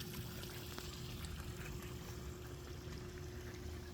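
Pool water spills over the edge of a hot tub into a backyard pool in a low, steady waterfall wash that runs without a break, quiet and constant with no voices.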